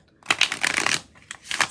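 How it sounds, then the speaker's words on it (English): Tarot cards are shuffled by hand in two quick riffling bursts of crisp papery flicking, close up and alone. "I shuffle in a way that doesn't give reversed cards, keeps everything in order"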